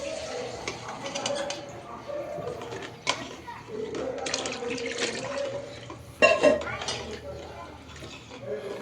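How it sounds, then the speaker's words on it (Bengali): Water is poured into a pot of fried rice grains for polao on a low stove, a steady splashing pour with a sharp burst near the end, under a speaking voice. "এখন পরিমাণ মতো পানি দিয়ে দিলাম।"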